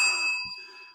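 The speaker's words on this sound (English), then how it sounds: "who do I have to thank for this bell?" A single bell ding rings out clearly at the start, its bright tone holding steady and slowly fading over about a second with no talk over it.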